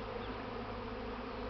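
A swarm of honeybees buzzes in a dense, continuous drone after leaving the hive and settling near it, steady and close throughout with no voices.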